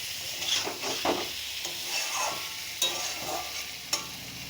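A spatula gently turns prawns and taro stems in a hot pan, with a steady sizzle and occasional scrapes and taps of the utensil, close and without talking.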